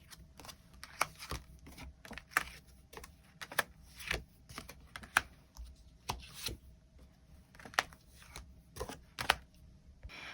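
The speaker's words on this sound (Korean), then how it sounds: "추가 카드 뽑아보도록 하겠습니다" Tarot cards are shuffled and drawn close by, giving a string of sharp papery snaps and flicks at an uneven rhythm with soft rustling between them, and nobody speaks.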